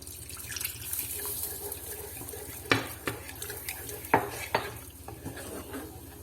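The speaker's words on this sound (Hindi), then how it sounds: "चिकन स्टॉक ये डाल के इसको हम साथ साथ मिक्स करते जाएंगे" A spoon stirs chicken stock into a sauce for a chicken sizzler in a pan, a soft continuous scraping with a few sharper clinks against the metal, close and quiet.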